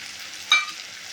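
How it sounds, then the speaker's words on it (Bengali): Ginger garlic paste fries in a pan for a crab curry, giving a short burst of sizzle and stirring over a low background hiss, close and brief. "আমি এর মধ্যে দিয়ে দেবো এইবারে আদা রসুনের পেস্ট।"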